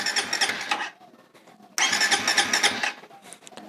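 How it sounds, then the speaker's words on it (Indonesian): A Suzuki Satria/Raider FI motorcycle's electric starter cranks in two bursts separated by a short pause, the engine turning over rhythmically but never firing, close and fairly loud. "Motor akan mati, dan di starter dia nggak bakalan bisa hidup."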